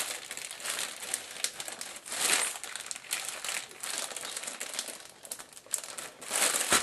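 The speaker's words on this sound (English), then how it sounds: "throw them in a plastic bag and seal up our plastic bag and burp the air out of" A plastic bag holding raw chicken breasts crinkles and crackles as it is sealed and the air pressed out, close-up rustling in uneven bursts with no talking.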